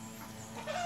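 Backyard pet chickens clucking softly up close, a steady low murmur of a few hens with a slightly louder call near the end, no talking.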